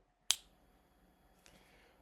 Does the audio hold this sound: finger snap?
yes